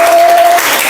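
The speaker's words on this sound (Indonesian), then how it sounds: "Silakan tepuk tangan dulu buat kelompok" Classroom applause for a student group about to present in a maths class, a dense wash of clapping that holds steady through the whole second with no speech over it.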